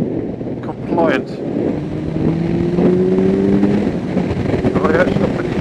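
A 2020 Kawasaki Ninja 1000SX motorcycle rides along a road, its engine droning and rising in pitch under wind rush while a rider talks over it.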